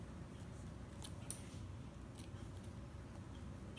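Scissors snip loose threads on a pair of sewn reversible shorts, a few quiet cuts with one sharper snip standing out over a low room hum.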